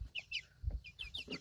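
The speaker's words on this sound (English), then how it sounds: "Here's some pretty little chickens" Several small chickens cluck and peep in quick, soft bursts, close by and fairly quiet, with no talking.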